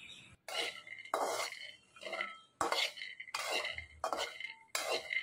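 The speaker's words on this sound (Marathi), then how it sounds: "आता आपण यामध्ये शेंगदाणे भाजून घेणार आहे।" Peanuts dry-roasting in a pan are tossed with a spatula, giving about six quiet, close bursts of rattling and scraping separated by short pauses.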